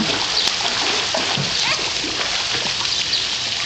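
A small child swimming splashes continuously in the water nearby, a dense steady sloshing and spattering with faint voices in the background.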